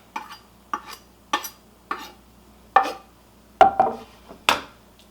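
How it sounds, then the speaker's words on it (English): Garlic being stirred and spread around in a seasoning pan while cooking chicken adobo, producing a steady series of scraping, tapping strokes about every half second, close and crisp with no speech. "we're going to take that garlic that we just had and we're going to put it into our seasoning pan"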